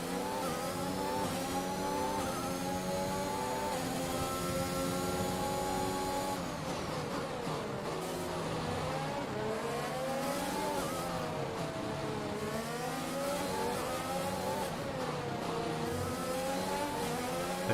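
Formula 1 race car engine in F1 2021, a night race, with a high, sustained whine whose pitch climbs and falls through gear changes and cornering, loud and continuous throughout.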